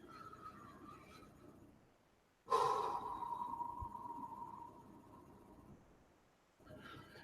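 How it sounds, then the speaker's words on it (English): A slow diaphragmatic breath during a guided breathing exercise: a long, steady, airy exhale close to the microphone, set between quieter stretches of soft breathing in a calm setting. "Make sure you maintain the diaphragmatic breathing."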